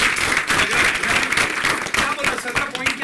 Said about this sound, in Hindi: क्या बात है, तालियां बजनी चाहिए